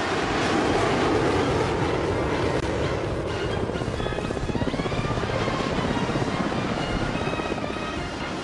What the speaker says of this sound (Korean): 대지를 박차고 비행기들이 연이어 날아오르고 있습니다